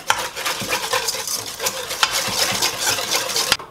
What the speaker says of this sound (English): I'm going to whisk all of these together, the sugar, the eggs, lemon zest, all that good stuff.